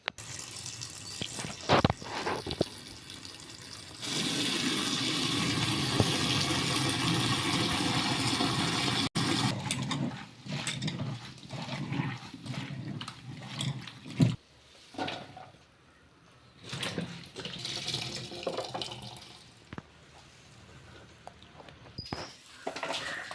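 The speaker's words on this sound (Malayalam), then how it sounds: "അങ്ങനെ ഒരു 2 വട്ടം കഴുകി വാരി എടുക്കുക ഞാനിത് കേട്ടോ" Taro stems being rinsed under a running kitchen tap, water gushing steadily for several seconds, then broken splashing and handling of the stems in the sink.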